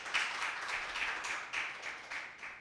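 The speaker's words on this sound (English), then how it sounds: "Please give our judges a round of applause." An audience applauds the judges at an impromptu speaking competition, a fairly soft, continuous patter of many people clapping, with no speech over it.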